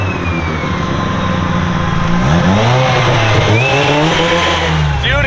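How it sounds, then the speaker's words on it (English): A Mazda RX-7 rotary engine with a T51R turbo revs hard and loud, pitch sweeping up and down in strong surges, with a high turbo whistle over the throaty drone. "how loud the turbo is with the T51R mod."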